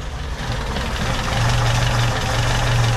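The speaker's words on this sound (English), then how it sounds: "That is a running engine." An old French car's engine, just revived after sitting in a barn, idles with a steady low rumble and slight knocking, close by and continuous throughout.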